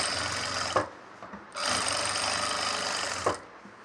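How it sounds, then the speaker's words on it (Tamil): A sewing machine stitching kurti fabric runs in two bursts of fast rattling whir, with brief pauses and clicks between them, close and fairly loud. "இப்போ பக்கத்தில் இன்னொரு தையல் போட்டுக்கிறேன், ஏன்னா அந்த தையல் ஓவர்லாக்கில் போயிடும்"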